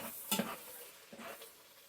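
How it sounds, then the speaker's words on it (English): Egg and buttered macaroni noodles frying in a pan, with a couple of short scraping, stirring clatters over a faint, steady sizzle, heard close and quiet with no talking. "this is frying up nicely"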